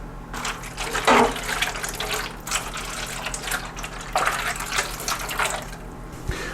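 Roughly two cups of water poured into the bottom of a pan holding a pernil pork roast, a close splashing, running pour that swells in two bursts, with no voices.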